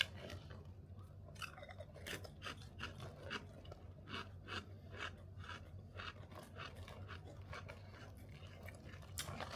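Hot chili squid flavoured crisps being eaten up close, with repeated dry crunching and chewing bursts spread steadily over a low background rumble, like a moving bus.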